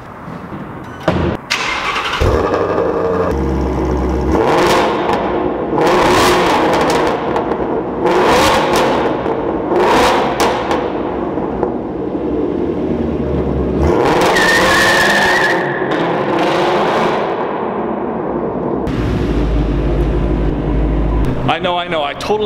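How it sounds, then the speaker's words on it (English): A C8 Corvette accelerates hard, its engine revving and surging loudly in bursts with a brief skid-like squeal, while people talk over it inside the car throughout. "I totally flubbed that hard acceleration"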